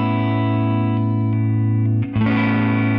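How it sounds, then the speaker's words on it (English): Electric guitar played through a TONEX pedal preset with a Fender Plus guitar, giving a sustained, effects-laden distorted tone with chorus-like shimmer; a held chord rings, then a new attack near the end changes the timbre, with no talking. "changing the guitar pickup on the Fender Plus changes the guitar tone quite drastically"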